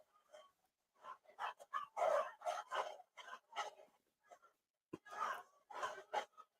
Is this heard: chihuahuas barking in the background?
yes